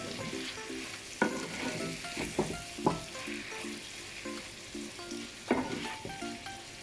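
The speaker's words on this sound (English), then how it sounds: "Just giving this a mix." Nando's hot sauce stirred in a hot pan for chicken pasta, a steady sizzle broken by several sharp utensil scrapes and knocks against the pan, fairly quiet and close, no speech.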